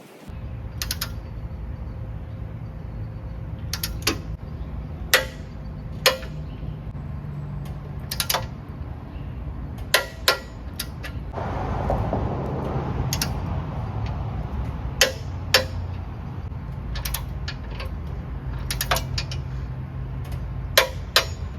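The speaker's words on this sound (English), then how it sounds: "I'm going to take my Tecton torque wrench and my driver bits, and I'm going to torque all of these to 75 foot-pounds" A Tekton torque wrench tightens Jeep TJ front bumper bolts to 75 foot-pounds, with sharp ratcheting clicks at irregular intervals over a low steady hum, close and alone.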